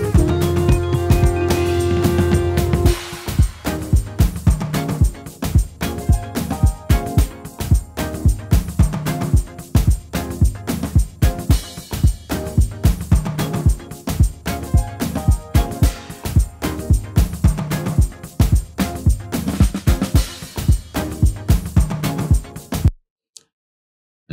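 Piano part playing along with a full Afrobeats-style beat, rapid steady percussive hits and layered tones running continuously at high level, then cutting off abruptly to silence near the end.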